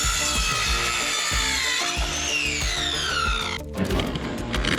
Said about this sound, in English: make a cut with the circular saw